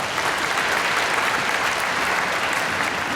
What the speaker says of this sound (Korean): 박수하십시다.